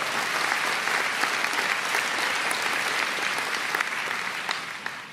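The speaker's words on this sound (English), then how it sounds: "Let's have another round of applause, please," Sustained, dense applause from a large audience for the Jubilation Choir at a celebration of Dame Jools Topp, loud and even throughout before tapering slightly at the end.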